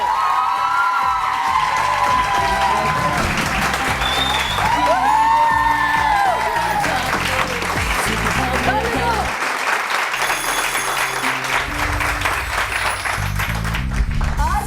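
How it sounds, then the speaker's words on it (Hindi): A studio audience on the Pakistani morning show Subah Saverey Samaa Kay Saath claps and cheers as guest Faisal Qureshi arrives, loud and sustained, mixed with music and people talking over it. "आपकी भरपूर ताली में मैं बुलाती हूँ फैसल कुरैशी को"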